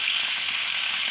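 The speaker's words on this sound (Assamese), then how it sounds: "এই মাছখিনি ভাজি পেলাই" Fish frying in hot oil for a sour fish curry with kordoi tenga, a steady dense sizzle that holds level and close the whole time, with no talk.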